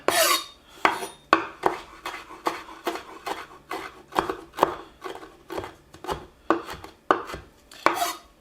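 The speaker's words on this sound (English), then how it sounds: "So all we need to do is basically, give it a chop." Knife chopping food on a board in a home kitchen while making dry aged pork chop with roasted vegetables, about twenty crisp, evenly spaced strokes, close and steady, with no talking.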